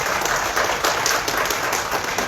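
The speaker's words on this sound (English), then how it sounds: "Can we give them a round of applause?" Audience applause at a school board meeting: a steady, dense clapping wash that holds at an even level throughout, with no clear breaks or peaks.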